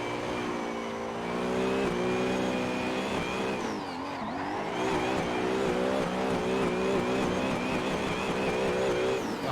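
A car engine in Assetto Corsa drifting holds high revs and bounces against the rev limiter, with a dip and recovery midway and a steady, loud, buzzing whine throughout.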